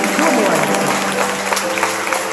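An audience applauds steadily, a dense and loud wash of clapping that fills the whole stretch, with a voice speaking over it, after a philosophy student's speech about the state of the country.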